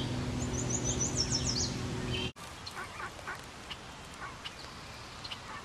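A mallard duck hen in a marsh calls for her chicks with a rapid series of descending quacks, fairly close, followed by softer scattered calls and marsh ambience.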